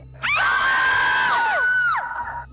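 A loud, sustained shout from a TV game show studio crowd on a countdown cue, raised voices rising together and holding for about two seconds before trailing off, with no speech.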